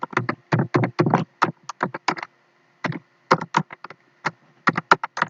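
Rapid bursts of close, crisp keystrokes on a computer keyboard while C code is typed, fast clustered taps broken by a short pause, then more irregular presses.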